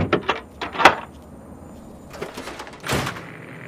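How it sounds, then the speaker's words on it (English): A door in the video game Fallout 3 is unlocked and swung open: a few clicks and a creak up front, a quiet gap, then a heavier mechanical open and bump near the end, with no voices. "Let me unlock the door for you."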